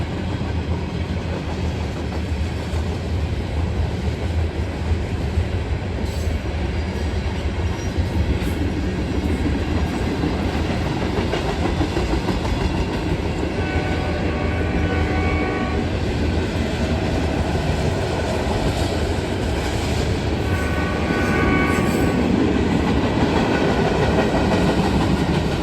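Freight train L423, a short train, rolls past close by with continuous heavy rumble and steady clickety-clack of wagons over the rails, loud throughout.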